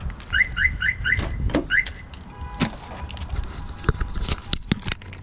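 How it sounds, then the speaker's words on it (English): An aftermarket car alarm on a Mitsubishi Eclipse chirps a rapid series of rising electronic tones, then breaks off into assorted clicks, knocks and rustling nearby. "I need to take off this eBay alarm."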